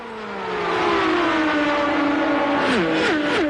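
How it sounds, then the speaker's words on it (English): Indy race cars screaming in the distance before race day at Indianapolis, a high engine whine that swells louder and more piercing, with several gear-change drops near the end. "That familiar whine in the distance is getting louder and more piercing"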